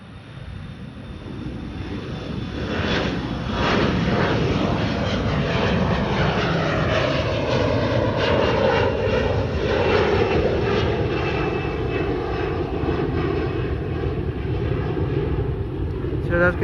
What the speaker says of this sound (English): So flight 6143 is taking off.